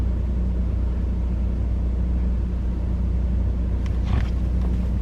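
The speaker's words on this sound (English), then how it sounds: "Just a little RPM to help the motor warm up." A car engine idles at elevated revs around 1400 RPM to warm up on a chilly 33-degree morning, a steady close low rumble with a brief higher-pitched whine near the end.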